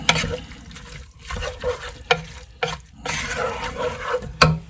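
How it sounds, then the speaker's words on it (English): Diced tomatoes stirred into a pot of vegetable soup, a soft wet sizzle and sloshing with a few light clinks of a spoon against the pot, close and moderately quiet. "Give that all a good stir."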